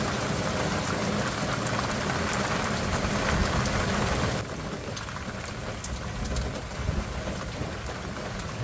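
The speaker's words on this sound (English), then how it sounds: "It's coming down pretty good. I mean, we need the rain." Heavy rain pounds steadily on a 2007 Chevrolet Silverado HD truck near the Lower Laguna Madre, a dense, loud, continuous wash that drops slightly in level midway but keeps falling without pause.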